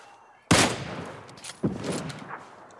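Gunfire in the battle-royale game PUBG Lite: two sharp, loud shots roughly a second apart, each followed by a rolling echo tail, with no talking.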